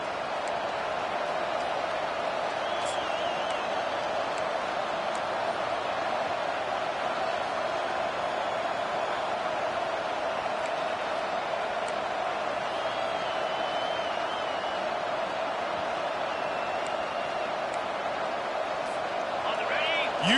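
A college football stadium crowd in the video game CFB Blitz, Auburn vs NC State, forms a constant loud wash of roaring noise under an announcer's commentary, with faint whistles and shouts scattered through.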